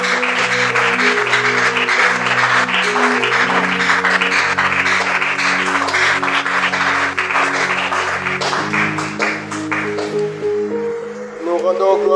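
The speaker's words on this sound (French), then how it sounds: "On acclame pour la parole." A church congregation applauds at a worship service, a long wash of clapping heard together with sustained organ or keyboard chords and voices.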